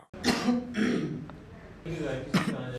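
Several close, rough coughs in quick succession, a pause, then another burst of hacking coughs.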